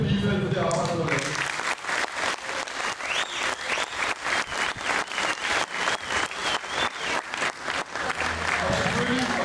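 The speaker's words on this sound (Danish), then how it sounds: "så synes vi, at du skal have et kæmpe bifald for det arbejde, du har lavet." A crowd at a youth football club awards ceremony applauds a club volunteer with steady, rhythmic clapping that swells and holds for several seconds, coming in just after a speaker's voice.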